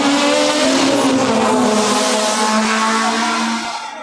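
Race cars sweep through a double chicane on a circuit, engines loud and close with a sustained droning roar and shifting pitch, fading slightly at the end.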